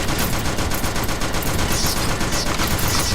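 Rapid shotgun fire in the mobile shooter game Monster Survive, dense continuous blasts filling the whole stretch at steady loudness with no talk.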